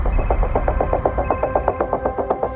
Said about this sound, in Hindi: कोई नहीं उठाएगा आज फोन।